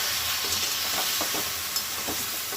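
Taro leaves cooking with spices in a pan, a steady close sizzle with soft repeated stirring scrapes throughout, no voices.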